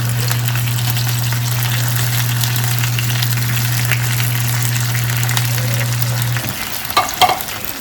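Food frying and being stirred around in a pan, a constant close sizzle with a low steady hum that cuts off near the end, followed by a few clattering stirs.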